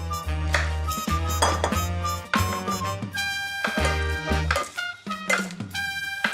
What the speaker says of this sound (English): If you want to grab the spoon and stir that as we go